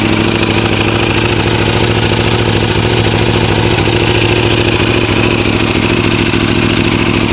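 Aprilia superbike engine idling after a cold start, a loud, steady, close mechanical rumble with fast even firing pulses and no talk over it.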